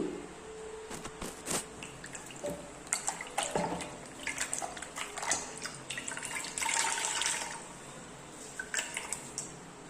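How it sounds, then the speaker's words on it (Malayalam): A tea-stained cloth is rinsed and squeezed by hand in plain water, with close splashing, sloshing and wet squishing in irregular bursts at a fairly quiet level and no talk. "ഇനി ഇത് നമുക്ക് നല്ല സാധാ പച്ച വെള്ളത്തിലേക്ക് ഇതൊന്ന് കഴുകിയെടുക്കുക"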